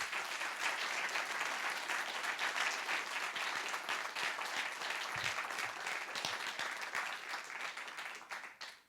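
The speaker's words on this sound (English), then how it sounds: "I hope that you'll give yourselves a round of applause for the work that all of you are doing each and every day." An audience at an awards ceremony breaks into sustained, dense applause that holds steady for nearly nine seconds before starting to fade at the very end, with no voices rising above it.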